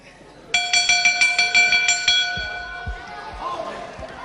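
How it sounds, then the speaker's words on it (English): A wrestling ring bell clangs rapidly about eight times at the end of round one, bright and loud, then fades under the murmur of a ringside crowd. "And another low punch there by Diablo, right on the bell of round one"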